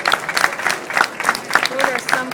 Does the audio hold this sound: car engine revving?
no